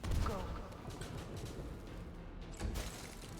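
A magic missile spell fires in the fantasy RPG Pathfinder: Wrath of the Righteous, a burst of sharp, gunfire-like impacts opening loudly, settling into a crackling rumble and flaring again near the end.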